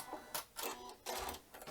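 Sewing machine stitching continuous binding onto fabric, short close bursts of needle rattle separated by brief pauses.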